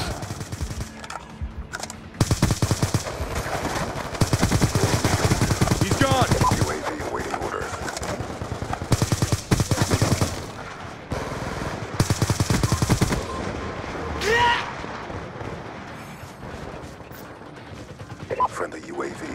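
Rapid automatic gunfire from a shooter video game crackles in dense, sustained bursts with short gaps, while a player talks over the action.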